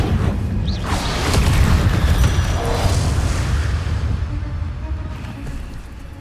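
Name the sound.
Incendio fire spell being cast in the video game Hogwarts Legacy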